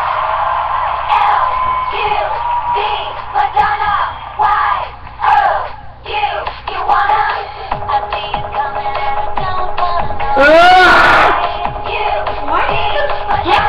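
A crowd cheers, whoops and yells with dense overlapping voices, rising to a loud burst near the end amid shuffling and cartoon-style commotion.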